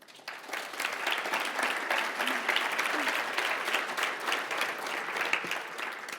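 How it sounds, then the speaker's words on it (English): A conference audience at the EuRA 2015 opening session applauds a sponsor with steady, dense clapping that holds at an even, fairly loud level for about six seconds. "you don't all clap every single time we say some names"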